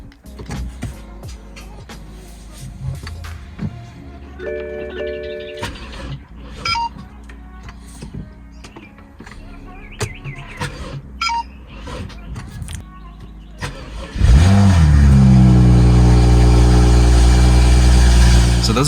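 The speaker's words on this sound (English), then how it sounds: "I'll throw in a clip of what my car does sometimes when I try to start it" A BMW F30 with a weak battery struggles to start: clicks and dash tones come first, then the starter cranks and the engine catches into a loud, sustained rumble for the last few seconds.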